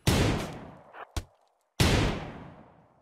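Gunfire in the RimWorld video game: two loud, sharp shots with long ringing decays, separated by a couple of brief smaller cracks and a moment of silence.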